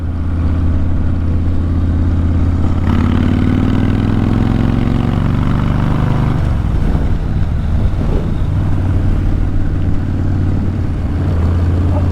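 An old-school cruiser motorcycle engine rumbles close by under heavy wind buffeting, its low tone rising in pitch as it revs, then settling back into a steady drone.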